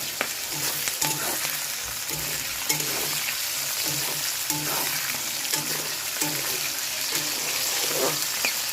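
Garlic and green chili frying with lentils and five-spice in hot oil, a dense loud crackling sizzle punctuated by repeated stirring scrapes throughout.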